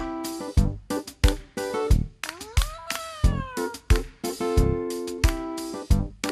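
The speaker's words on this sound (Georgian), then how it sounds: "პატარა მოთხრობა კატაზე" A cat meows over and over at close range, about a dozen loud, distinct cries in an uneven rhythm, one longer and drawn out in the middle, with no voices present.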